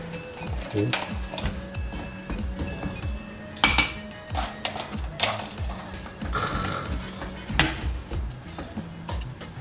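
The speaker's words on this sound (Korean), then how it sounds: "뚜껑 닫았다" A lid is set down on a pot of ramen in a kitchen, among scattered metallic clinks and clatters of cookware while people talk.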